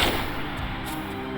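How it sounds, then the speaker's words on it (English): Gunfire rings out in Tomb Raider III Remastered, a dense, loud burst of booming shots that runs without a break across a short stretch of the game's cavern level. "I can shoot him through the meteor."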